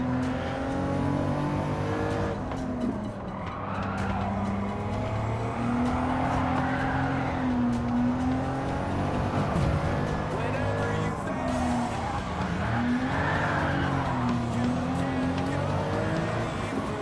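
Racing car in Gran Turismo 7's Japanese Clubman Cup 550, engine droning steadily with wavering revs and repeated tire squeals as the car skids through corners, with a voice talking over it.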